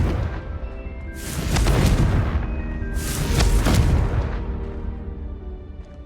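A Confringo explosive spell goes off in the game Hogwarts Legacy: two heavy, booming blasts a couple of seconds apart, each with a deep rumbling tail, loud and close, with no speech.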